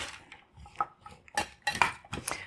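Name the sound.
mixing sweet potatoes and beets together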